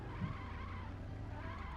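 A car in the Rope Hero video game races along at high speed, a steady loud engine drone with a brief tyre squeal near the start, heard alone with no talk.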